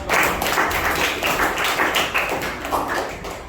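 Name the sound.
classroom applause, students clapping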